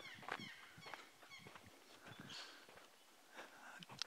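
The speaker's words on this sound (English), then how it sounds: "Birds out and about." Birds in the Australian bush give scattered, honking calls at low level, faint and spread over a few seconds with some distant chatter among them.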